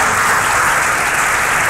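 A church congregation at an Urdu-language Bible sermon breaks into loud, dense applause, a sustained wash of many hands clapping together at close range, with no talking.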